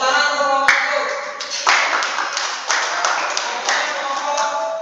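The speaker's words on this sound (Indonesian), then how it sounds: "Tepuk tangan untuk kelompok satu." Classroom group applauding a student group during a practical session, steady dense clapping from several people close by, with a few sharper accents throughout and no speech.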